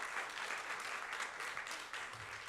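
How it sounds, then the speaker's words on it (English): A seated audience at a student session on events-industry careers gives a round of applause, steady dense clapping that fills the short moment at a moderate distance. "So give them a round of applause, if you would,"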